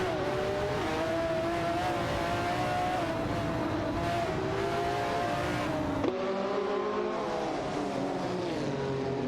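Race car engines drone continuously in a sim racing game, with a Porsche 962 LM and a Ferrari F50 GT among the cars; a steady high-revving whine shifts pitch with gear changes and a sudden change partway through.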